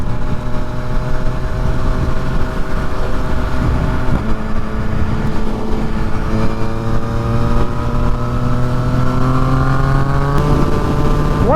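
A 2020 Yamaha MT-09 motorcycle riding with a quick shifter, its engine droning steadily and loud throughout with rising harmonic pitch sweeps as it accelerates through gears, mixed with constant wind rush.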